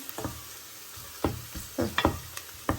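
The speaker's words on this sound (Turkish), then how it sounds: "Şöyle hemen soğanım kavruldu" Onions frying in a pot as the base for red lentil soup, a soft background sizzle broken by several quick scraping stirs that cluster toward the end.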